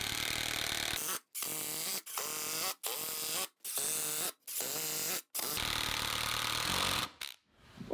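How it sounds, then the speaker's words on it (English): A power driver sinks Power Pro star-drive truss-head cabinet screws into a wooden sawhorse brace, whirring in about seven loud, close bursts, each rising in pitch and stopping abruptly with brief pauses between. "I'm using Power Pro cabinet screws to attach the brace"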